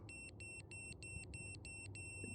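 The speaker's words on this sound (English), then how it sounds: "sorry about all the beeping" A laser level beeps in a fast, regular series of short, evenly spaced electronic tones, about eight in a row, over a low background rumble.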